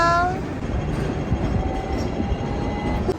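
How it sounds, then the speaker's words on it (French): Hong Kong tram pulling in, a steady rumbling rail roll with a faint high squeal and a brief tonal hoot at the start, moderately loud and close, with no talk. "il y a notre tram qui arrive"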